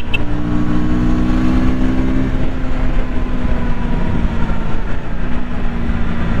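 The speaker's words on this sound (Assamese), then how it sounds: "অলপমান এক্সেলাৰেশনটো টেষ্ট কৰি চাইছো" A KTM 160 Duke motorcycle accelerating: a loud, steady engine drone with strong low harmonics that climb and shift in pitch over several seconds, with no talking.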